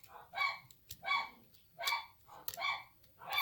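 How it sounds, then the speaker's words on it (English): A dog barks five times in an even, repeated rhythm, each bark sharp and moderately close against an otherwise quiet background. "Damn dog."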